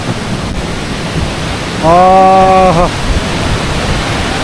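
Guryong Falls on Jirisan mountain roars as a loud, steady wash of falling water that fills the whole clip, and a man's drawn-out vocal exclamation briefly rises over it midway.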